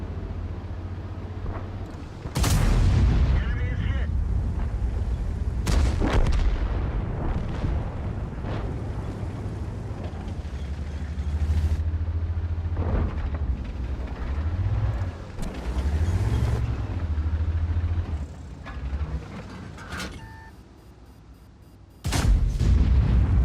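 Heavy tank gun shots from a T30 in World of Tanks boom out loud and near, several separate blasts over a constant engine rumble, with a brief quiet gap before one last shot.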